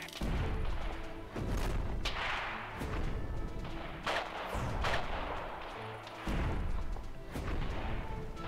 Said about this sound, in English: Baker here, artillery firing at Mike